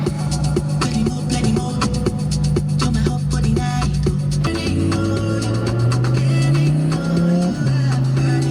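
A loud car engine drones and revs up close, pitch rising as it accelerates, with road and tire noise running continuously throughout.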